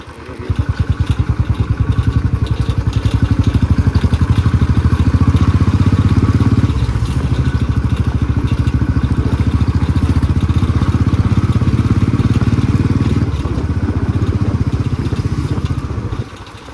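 A motorcycle engine idles close by while being parked. Its rapid, even putter holds steady for over fifteen seconds before cutting out near the end.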